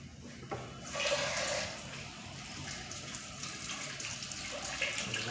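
Water runs steadily from a kitchen tap into a sink while something is washed off during rice ball cooking, a soft continuous splash with a brief louder gush near the start.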